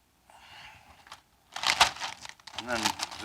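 Cut yellow squash pieces get tossed and shaken in a plastic zip bag, giving loud crinkling and rustling bursts close by after a quieter start.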